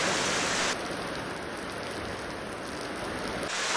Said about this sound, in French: aujourd'hui c'est une journée à la maison parce qu'il pleut, il pleut, il pleut